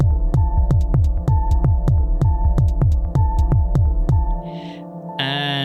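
A Volca Sample retriggers the same note in a techno loop, producing a fast, steady train of thumping bass hits with a sustained hum underneath that stops near the end before a brief new tone enters, loud and without talking.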